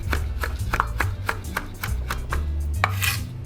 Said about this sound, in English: really finely chop these stems so I use all the herbs.